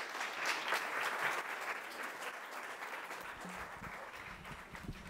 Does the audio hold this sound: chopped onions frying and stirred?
no